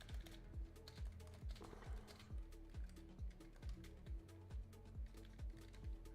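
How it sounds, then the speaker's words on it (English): Keys on a computer keyboard are typed in a regular, fairly quick rhythm of distinct clicks, close and clear in a quiet room with no voices. "Ignore how I'm typing this in."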